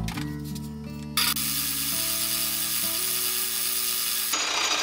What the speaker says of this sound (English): Now we'll plug the lathe in.